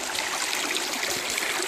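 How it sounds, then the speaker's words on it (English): Mountain stream in the Carpathians flowing steadily while someone washes their hands and legs in it, a close, continuous babbling and trickling rush with no talk. "I'm washing my hands, my legs."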